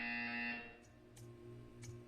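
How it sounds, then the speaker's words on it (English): A loud buzzer sounds in the video game Portal 2, a harsh tonal drone that cuts off within a second, followed by a low hum and a few faint clicks. "You will hear a buzzer. When you hear the buzzer, stare at the art."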